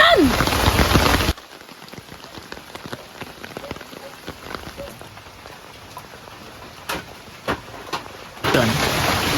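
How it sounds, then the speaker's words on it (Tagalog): Heavy rain pours steadily, falling loud at the start and end and quieter in between, with scattered drops and patter throughout. "Malakas ang ulan!"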